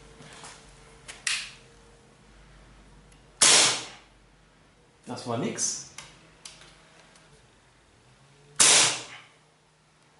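Several sharp, loud shots from a Sig Sauer P226 X-Five CO2 pistol firing 4.5mm steel BBs on a fresh CO2 capsule, at irregular intervals, each a crisp crack, with a brief spoken remark between them.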